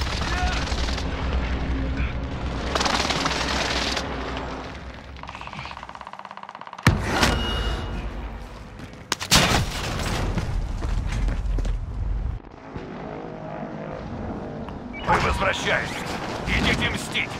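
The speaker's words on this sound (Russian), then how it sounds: "Они наносят точечный авиаудар." Airstrike explosions in a video game, loud booms and crackling blasts bursting in several bouts over dense gunfire-like rattling, with game sound and voices mixed throughout.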